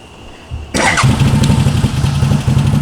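A CFMOTO utility vehicle engine cranks and catches, then settles into a steady, chugging idle that continues close by with a regular pulsing rhythm.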